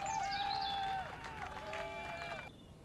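Crowd clapping and cheering in the video game Destroy All Humans, a short burst of rising cheers and whoops that fades after about two seconds, heard at moderate volume.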